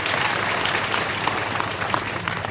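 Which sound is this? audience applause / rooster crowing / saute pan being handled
audience applause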